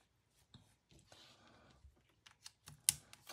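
Keys on an M1 MacBook Pro keyboard clack in a short, uneven burst of typing, close and moderately quiet, growing louder toward the end.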